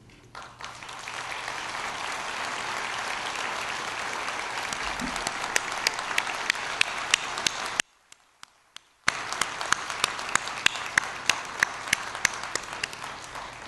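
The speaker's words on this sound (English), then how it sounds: "You got a great round of applause before you keep standing." Sustained audience applause fills a university convocation hall, dense and steady clapping with individual sharper claps standing out, briefly cut to near silence partway through before resuming.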